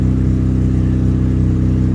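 Mazda RX-8 rotary engine idling with a BHR midpipe fitted, a steady, rapid low-pitched exhaust burble with a fine even pulse, close and continuous throughout.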